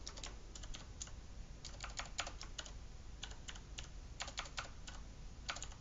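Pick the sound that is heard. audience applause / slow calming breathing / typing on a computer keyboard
typing on a computer keyboard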